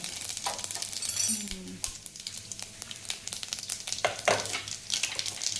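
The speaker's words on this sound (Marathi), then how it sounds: "त्यात मोहरी टाकून घेऊया." Mustard seeds crackling in hot oil in a pan, a continuous soft sizzle with scattered sharp pops and a few light clinks of a utensil.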